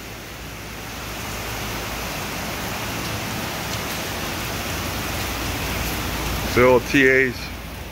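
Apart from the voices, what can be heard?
Florida rain falling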